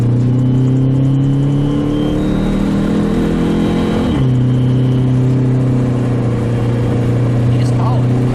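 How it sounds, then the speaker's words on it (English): A car engine drones loudly while accelerating, with a faint high whistle rising over the engine before a gear change drops the pitch. "Where's that whistling sound? That's the turbo."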